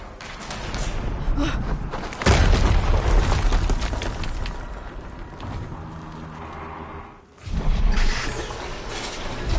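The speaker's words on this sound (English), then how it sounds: "Another explosion." An explosion in Horizon Zero Dawn Remastered: a heavy boom with rumbling, crashing debris carries on for several seconds, then a brief drop before another loud blast surges back.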